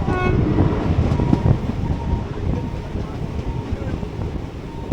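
An express train in motion, giving a loud, close, steady low rumble with clattering wheel and carriage noise and some wind buffeting throughout, with no clear speech.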